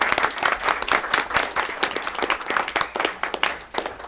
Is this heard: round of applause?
yes